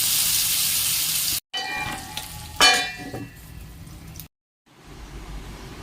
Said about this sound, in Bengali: কড়াইতে তেল গরম হয়ে গেছে, অল্প অল্প করে ভেজে নেব আমি।